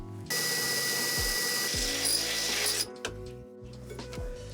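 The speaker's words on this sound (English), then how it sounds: "I'm just going to drill this hole that's already here out a little bit more" Power drill widening an existing hole in the metal body of a Ford Transit van during a grey water tank install, a close, steady whine running for a few seconds, then stopping and restarting in short bursts.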